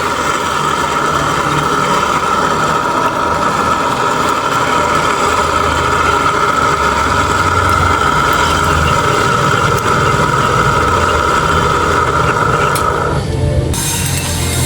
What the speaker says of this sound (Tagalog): Yung revolution ng motor bumagal kaya mahina na yung tubig na nilalabas niya.